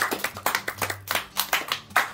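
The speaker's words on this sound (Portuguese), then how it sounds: "Uma salva de palmas, então, pro Sidney." A small group claps, a steady run of close, sharp handclaps for a couple of seconds.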